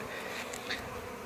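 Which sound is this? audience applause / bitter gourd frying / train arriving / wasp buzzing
wasp buzzing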